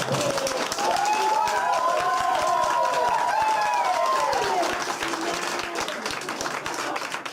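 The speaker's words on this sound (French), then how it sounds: "donc quand même, on peut l'applaudir" A crowd applauds steadily and loudly with some cheering, while a voice speaks over the clapping.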